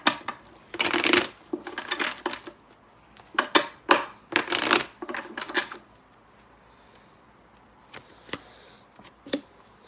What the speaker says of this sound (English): Let me shuffle these cards better.